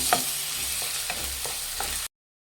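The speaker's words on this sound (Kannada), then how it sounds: "ಶುಂಠಿ ಬೆಳ್ಳುಳ್ಳಿ ಪೇಸ್ಟು ಅಲ್ಲಿವರೆಗೂ ಫ್ರೈ ಮಾಡಿ" Onions with ginger-garlic paste frying in a pan for egg curry, a steady sizzle broken by several stirring scrapes, close and moderately loud, ending abruptly in silence.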